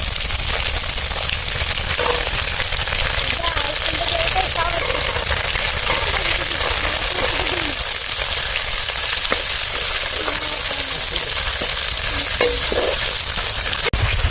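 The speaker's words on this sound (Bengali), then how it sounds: "পেঁয়াজ দিয়ে দিলাম, পেঁয়াজটা লাল করে ভেজে নেব।" Onions frying in oil with bay leaf, cloves, cinnamon and garam masala, a dense, loud sizzle that holds steady throughout, with faint stirring scrapes.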